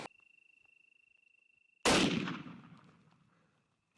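A single loud .270 rifle shot fired at a mule deer in open cactus country, a sharp close blast that rings out and decays over about two seconds, after a steady insect-like whine.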